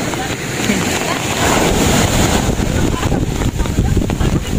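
Strong sea waves at the shore, a loud, continuous roar of surf that swells and rushes, with heavy wind buffeting the microphone throughout.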